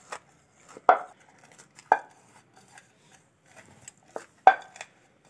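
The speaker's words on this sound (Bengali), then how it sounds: "রসুনগুলো গুঁড়িয়ে নিচ্ছি ভাজাগুলো" Fried garlic cloves being crushed, a few sharp, isolated knocks spaced irregularly over quiet background, close and clear with no talking.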